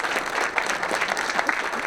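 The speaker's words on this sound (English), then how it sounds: "Let's give them a big round of applause as well." Audience at an awards ceremony clapping together, a short stretch of dense, even applause from a crowd of many hands at moderate volume.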